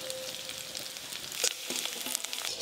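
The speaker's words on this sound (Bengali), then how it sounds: "এই পনিরগুলো ভালো করে ভাজা হয়ে গেল তুলে নেব" Paneer cubes fry in a pan, giving a steady broadband sizzle with scattered sharper crackles and pops across a few seconds, close and moderately loud, with no talking.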